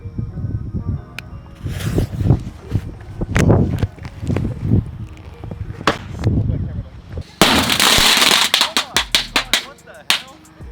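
Fireworks detonate inside the coin return chute of a vending machine, a series of sharp close bangs capped by one bigger, sustained blast, with talk between the pops.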